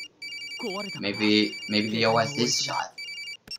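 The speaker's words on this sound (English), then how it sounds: "just a ringtone" A phone ringtone from the horror video game Corpse Party: Blood Covered rings steadily and repeatedly through the whole moment, a bright electronic trill with someone talking over it.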